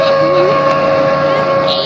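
A Hydrostream V-King boat powered by an Evinrude 225 H.O. E-Tec outboard motor makes a loud, steady high-pitched drone that holds level throughout, with a slight rise in pitch, mixed with wind.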